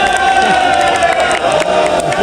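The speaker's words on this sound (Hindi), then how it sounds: "हाफिज अमीर अली अवान साहब के लिए भरपूर तालियां होनी चाहिए" A crowd applauds and cheers loudly for Hafiz Amir Ali Awan on stage, with dense clapping, whoops and shouts over a sustained tonal hum that stays at full level throughout.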